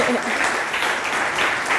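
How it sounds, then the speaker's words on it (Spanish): An audience claps for a guest speaker being introduced on a panel, brief steady applause blended with a voice talking over it. "Un aplauso para él."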